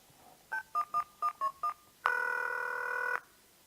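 A mobile phone number is keyed in as six short, evenly spaced tones, followed by a single steady tone lasting about a second, clear and close in a quiet room.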